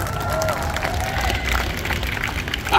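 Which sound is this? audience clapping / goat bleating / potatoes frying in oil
audience clapping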